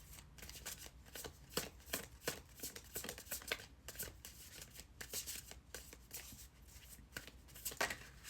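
Tarot cards are shuffled in a long run of quick riffles and slaps, close and fairly quiet, with no one speaking.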